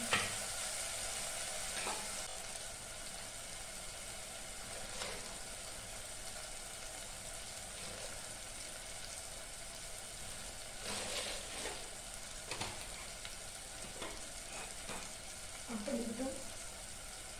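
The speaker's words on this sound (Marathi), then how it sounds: "अल्लं लसूण भाजत आलं" Ginger and garlic frying in a pan for Kolhapuri masoor curry, a steady low sizzle running throughout with occasional scrapes and clinks of a spoon stirring, close and moderate in level.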